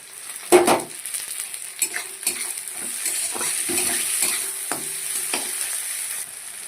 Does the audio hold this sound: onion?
yes